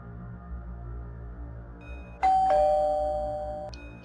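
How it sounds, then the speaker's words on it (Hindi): A doorbell in an animated Hindi horror story gives a single clear two-tone ding-dong over a faint, low background hum, ringing out and slowly fading. "कि तभी उनके घर की डोरबेल बजती है।"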